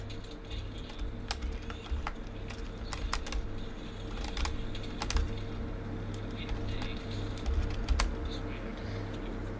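A computer keyboard clicks in scattered taps while someone plays the game Arc Raiders with a drawing tablet, fairly quiet clatter over a steady low hum, without speech.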